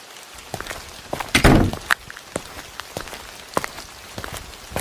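Rain falls in the Sakura School Simulator game, a steady patter on surfaces broken by sharp drops and thunks, one louder burst early on, with no talk.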